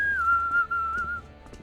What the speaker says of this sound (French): joue du sifflet.